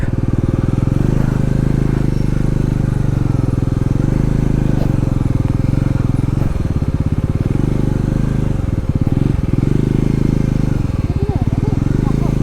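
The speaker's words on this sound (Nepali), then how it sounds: "NS 200 हो त्यो बाइक" An NS200 motorcycle engine drones steadily throughout, loud and close, with slight changes in pitch as the rider holds speed.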